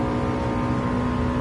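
Subaru Impreza engine from Gran Turismo 7, a loud steady drone held at high revs, smooth and continuous with no voices over it.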